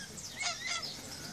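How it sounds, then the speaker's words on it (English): A mother duck calls nearby with a couple of faint, honking quacks over a soft background hiss, brief and low in level. "That must be Mama Duck."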